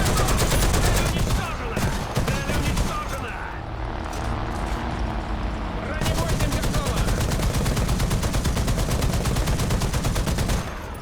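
A 50 cal machine gun firing from a Russian tank in a video game, rapid, loud bursts of close gunfire with a short pause midway, then sustained shooting.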